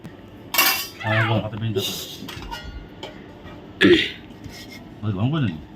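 Rice is served onto plates with utensils, giving a few distinct clinks and scrapes of metal on dishware, while a person talks between them.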